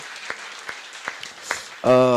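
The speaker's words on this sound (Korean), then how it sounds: "하나님께 영광의 박수 한번 올려드립시다" A church congregation gives a few sparse claps during a Holy Week sermon, then a voice breaks in near the end; the clapping is thin and spaced out rather than a full ovation.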